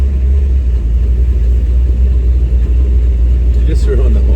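A Chevrolet S10 pickup's engine runs with a deep, loud, steady low rumble heard close up, and a faint voice comes in briefly near the end.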